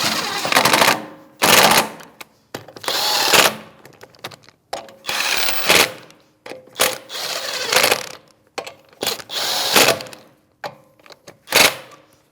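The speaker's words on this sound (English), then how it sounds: "It's a 19 millimeter socket, and we're just going to bottom them out and then torque them to specs." About eight sharp, loud bursts of a power tool rattle one after another, with short gaps between them, as a 19 mm socket runs the rear shock mount bolts down on a Chevrolet Malibu.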